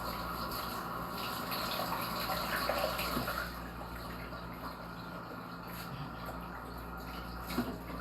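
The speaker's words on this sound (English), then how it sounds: "Let me rinse this thing off." Passion fruit being rinsed under a running kitchen tap, a steady close hiss of flowing water with a slight change in splashing as the fruit moves under the stream, no speech.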